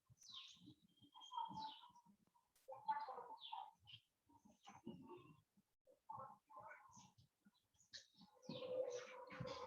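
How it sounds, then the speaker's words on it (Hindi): Birds chirp and call outdoors in scattered bursts, mixed tweets with a few fowl-like clucks, faint and somewhat distant, with no talking. "पक्षियों की किलबिलाहट की आवाज"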